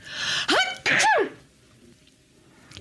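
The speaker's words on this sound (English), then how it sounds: "I feel a sneeze coming on" A single loud sneeze close by, a sharp inhaled gasp followed by an explosive burst, then quiet.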